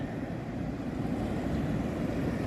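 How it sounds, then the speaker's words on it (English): Ocean surf rolls onto a beach in Mendocino County, California, as the tide comes in: a steady, dense roar of waves with wind, fairly close and unbroken. "Look at the waves. The tide is starting to come in."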